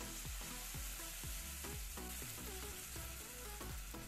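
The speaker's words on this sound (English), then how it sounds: "Let that simmer a bit" Rasta pasta sauce of butter and coconut milk bubbling in a pot, a steady dense sizzle and hiss throughout with soft recurring thumps and scrapes of stirring, close and fairly loud, no voices.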